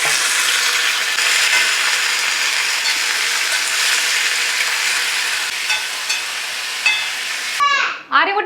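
Tomato, onion, green chilli and curry leaves sautéing in a pan, a steady sizzle and crackle with occasional scraping stirs, ending in a brief clatter near the close.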